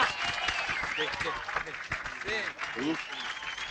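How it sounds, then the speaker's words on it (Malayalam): A group of people clap together in a dense, steady burst of applause, heard under loud overlapping talk and voices close by. "എല്ലാരും ഒന്ന് ക്ലാപ്പ് ചെയ്യടാ"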